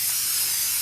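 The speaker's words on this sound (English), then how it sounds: "Spray some on the sheet of sandpaper." Super 77 spray adhesive hisses from an aerosol can onto a sheet of sandpaper, a loud, steady, close spray lasting under a second with no talking.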